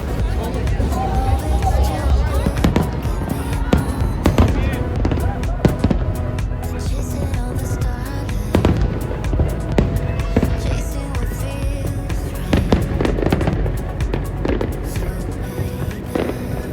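Fireworks display over DUMBO, New York: a steady run of sharp bangs and crackles bursting at irregular moments over a constant backdrop of crowd murmur and chatter, with some bursts louder and nearer than others.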